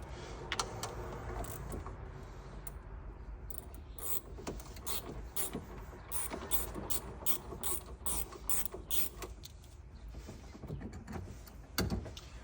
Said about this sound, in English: now we're gonna go ahead and disconnect our ground cable. So obviously you're gonna need a 10 millimeter.